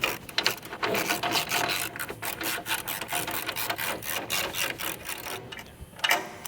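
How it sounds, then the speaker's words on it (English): A chain being tightened on a New Holland tine bar makes rapid, continuous ratcheting and rasping metal clicks. The sound is close and fairly loud, with no voices. "With that chain on, you gotta tighten it up."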